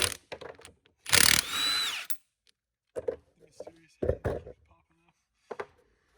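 A power tool zips bolts off a Sterling 10.5 rear axle on a Ford F250 during regearing, giving one loud whirring burst plus a few shorter bursts, with speech in between.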